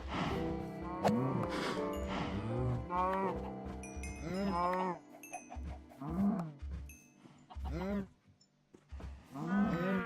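Cows mooing in Minecraft, a run of drawn-out, bellowing calls in close succession, some overlapping, fairly near and clear with short pauses between.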